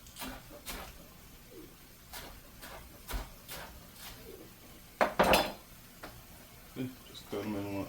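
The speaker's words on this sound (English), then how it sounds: "we're just gonna cut them on the bias" Sharp knife chopping green onions at an angle on a cutting board, a series of crisp, scattered taps spaced through the clip, with a louder cluster of knocks midway and a soft clatter near the end.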